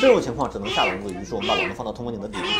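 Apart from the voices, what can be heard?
kitten meowing inside a ventilation shaft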